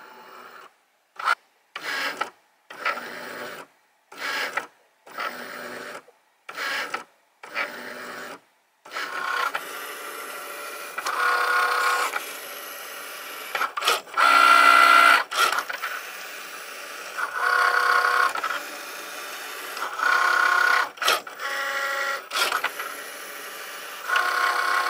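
A Cricut cutting machine scans and then cuts dark cardstock in a print-then-cut job. Short evenly spaced whirring bursts from the moving carriage give way to longer mechanical buzzing and rasping passes, close by and without speech.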